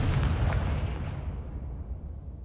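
Confringo spell explosion in the video game Hogwarts Legacy, a deep booming blast with heavy low rumble that slowly fades over a couple of seconds.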